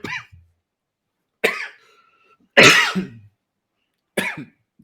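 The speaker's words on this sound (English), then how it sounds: "I think you have a bad cough." Four separate harsh coughs, close and loud, spaced about a second apart with silence between them.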